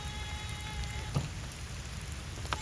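Light rain falling on a farm during a hurricane, a faint, steady patter with no voices.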